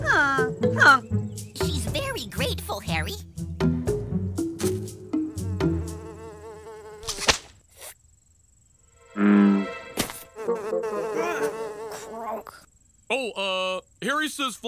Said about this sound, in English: Flies are gross.